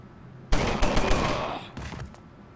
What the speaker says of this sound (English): nice submachine gun there